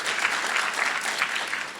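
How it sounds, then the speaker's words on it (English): An audience at a community meeting about an entertainment and sports arena applauds steadily for the full length, with dense, even clapping that stays moderately loud and has no voices over it. "Please give John a round of applause for all the work he does."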